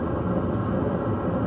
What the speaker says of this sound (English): That is the sound of a night heater firing up.